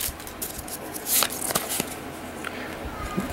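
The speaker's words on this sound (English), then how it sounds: "Oh man, I love opening cards." World of Warcraft trading card game packs being opened, with crisp foil wrapper tearing and card shuffling in quick irregular bursts, close by, while a voice talks softly underneath.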